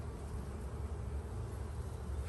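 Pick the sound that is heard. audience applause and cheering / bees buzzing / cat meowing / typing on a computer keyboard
bees buzzing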